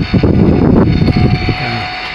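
A worn fan motor in a Kolin Primus air conditioner runs noisily, giving a loud, steady whirring drone with rough, uneven fluttering and no talk.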